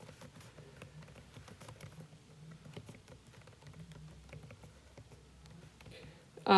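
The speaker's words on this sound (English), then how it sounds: "we're going to type in Valley City Public Schools" Soft, fast typing on a computer keyboard, a steady patter of faint keystrokes running throughout with a low background hum, ending in a sharper louder knock.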